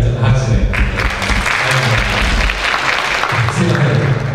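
Brief, loud audience applause at a panel discussion on DevOps, a burst of clapping lasting a few seconds with some talk mixed in.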